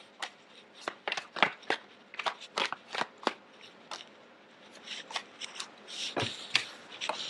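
Tarot cards being shuffled up close, a steady run of soft riffles and papery slaps over faint background hiss.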